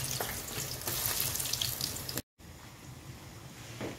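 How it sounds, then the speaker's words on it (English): Plantain pieces frying in hot oil, a dense close sizzle and bubbling that breaks off briefly, then returns softer and quieter. "while our plantain fry"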